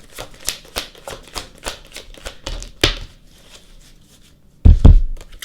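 A deck of tarot cards is shuffled by hand in quick, papery riffling bursts, followed by a pause and then a soft thud as the cards are set down or tapped together, close and clear.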